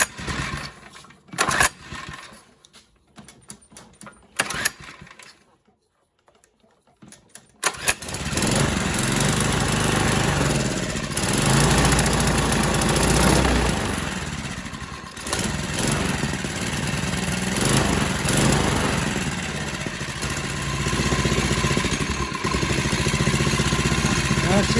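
An old junk-pile mini bike engine with the choke on is pulled a few times with sputtering bursts, then catches and runs roughly at a loud, steady idle, with a voice talking briefly.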